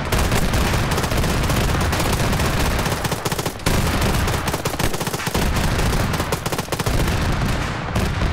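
Rapid, sustained turret fire in a video game hammers away almost continuously, loud and close, with only a few brief gaps between the long volleys.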